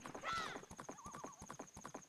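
Horse hooves clip-clopping in a video game while riding, a quick run of close, regular hoof beats with a whinny near the start, alone without talk.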